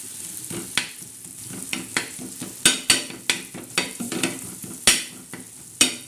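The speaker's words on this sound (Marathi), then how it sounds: "टमाट्याला असं ठेसून घ्यायचं आहे असं ठेसून घ्यायचं खूप बारीक ठेसायचं" Tomatoes pounded finely on a traditional stone grinding slab for a spicy thecha, heard as a close series of irregular crunching, squelching thuds and sharp stone knocks, with no voices.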